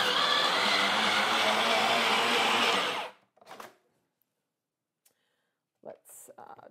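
An Elemental food processor with its dicing attachment dicing onion: a loud, steady motor whir for about three seconds that stops abruptly, followed by a few faint clicks and handling knocks.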